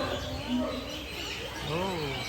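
Birds in an aviary chirp and coo in a steady background chorus, with occasional rising calls, under faint human voices.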